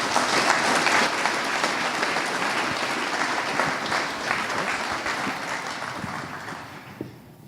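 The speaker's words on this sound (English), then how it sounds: "let's give them a round of applause" A conference audience gives the panelists a steady, dense round of applause that holds for several seconds, then tapers off toward the end.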